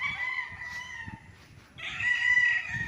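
Rooster crowing on a game farm with many chickens, two drawn-out crows nearby separated by a short gap, while softer clucking and farmyard noise continue underneath.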